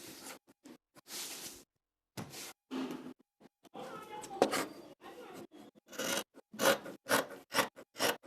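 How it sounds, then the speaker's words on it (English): Scissors trimming excess fabric while sewing a kimono dress, crisp close snips in quick uneven bursts separated by brief pauses. "Make sure you trim all the excess fabric."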